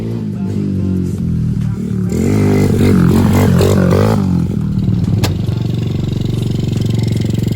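A Honda Wave 125 converted into a dirt bike rides past with a loud, close engine that rises in pitch as it revs up, then settles into a steady drone with some clatter.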